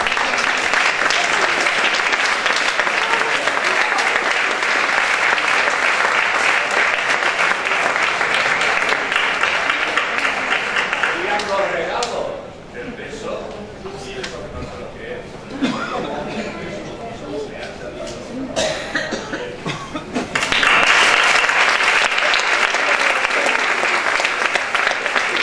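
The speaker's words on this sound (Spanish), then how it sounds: "Despidámosle con un fuerte aplauso." Sustained applause from an audience at a cultural association's queens' coronation ceremony in Mislata, loud and steady for about twelve seconds, dipping briefly, then swelling again to a full, even roar of clapping.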